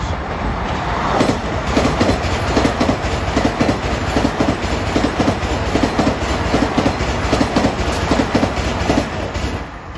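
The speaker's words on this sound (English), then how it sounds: "Comes 1955, Ronkonkoma to Penn Station with M9s." An LIRR M9 commuter train bound from Ronkonkoma to Penn Station roars past at Elmont, loud and close, with continuous rumble and rhythmic clickety-clack of wheels over rail joints throughout.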